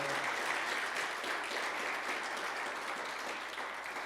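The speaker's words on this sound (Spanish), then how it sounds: "Un aplauso grande al Señor" A church congregation applauds during a sermon on fasting, a dense, steady wash of many hands clapping that stays fairly even and moderately loud throughout.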